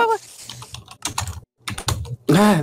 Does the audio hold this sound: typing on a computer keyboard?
yes